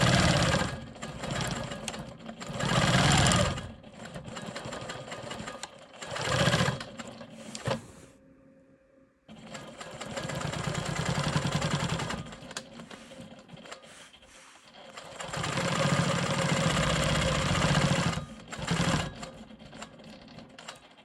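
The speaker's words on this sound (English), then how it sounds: "I'm going to quilt around this little triangle to get where I need to go" A sewing machine stitches quilting lines on a rolling stone quilt block, running in long steady bursts with short pauses between passes, close and loud with no talking.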